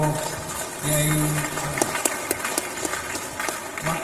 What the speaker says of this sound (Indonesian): Tepuk tangan untuk Kiai